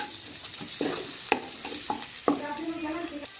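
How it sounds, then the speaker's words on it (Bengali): Spice paste with chopped tomato and Kashmiri chili powder frying in a pan, stirred with several distinct clinking scrapes over a soft continuous sizzle, close and moderately loud. "কালারের জন্য দিচ্ছি সামান্য একটু কাশ্মীরি লঙ্কার গুঁড়ো, দিয়ে মশলাটাকে খুব ভালো করে কষিয়ে নেব।"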